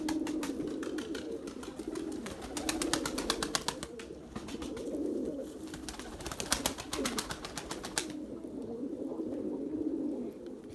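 Domestic pigeons cooing near a loft, with repeated low, soft coo phrases running steadily throughout, alongside bursts of rapid clicking or fluttering and a constant background murmur.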